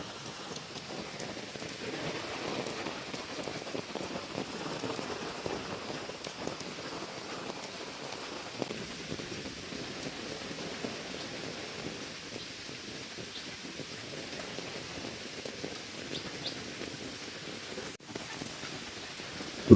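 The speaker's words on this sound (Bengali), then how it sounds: "এই দেখুন কীভাবে বৃষ্টিটা পড়তেছে," Heavy rain pouring down in hilly country, a dense steady hiss of drops on surfaces with a faint low rumble beneath, continuous and close with no talking.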